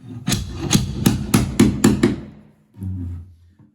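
Old, rusty backhoe-style nail drawer pulling a nail out of a floorboard: about seven close, even knocks in a steady rhythm, then a brief low creak as the nail comes free.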